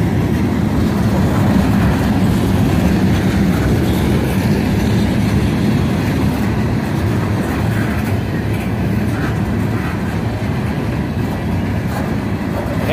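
A Union Pacific train rolls past nearby, a steady loud rumble with rail clatter that holds for the full stretch, no voices over it.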